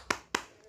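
Children clap along to a tepuk sirah clapping chant, heard here as two crisp, close hand claps about a quarter second apart. Low background hum sits underneath, with no voices.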